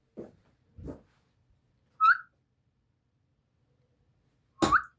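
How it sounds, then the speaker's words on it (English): A short, bright whistle rises and falls once, alone in a quiet darts practice room, set between a few brief voiced sounds and a louder burst. "But that whistling is annoying"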